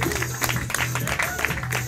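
Scattered audience clapping at a wedding reception as the wedding party arrives, a steady broadband patter with a low hum underneath, moderately loud and continuous for under two seconds.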